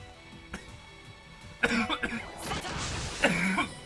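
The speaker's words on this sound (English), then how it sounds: "I didn't mean to cough like that." A person lets out several coughs and throat clearings: a faint cough early on, then a loud harsh burst followed by further coughs, close to the ear with no talking.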